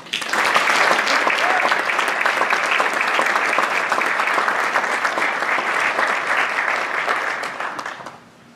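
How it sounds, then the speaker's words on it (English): An audience applauds loudly and steadily, dense clapping that holds for several seconds before fading out at the end, at a high school athletics awards night. "Let's give another round of applause"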